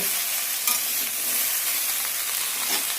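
Gourd greens stirred in a wok, a steady rustling, scraping churn over a constant close sizzle with no voices.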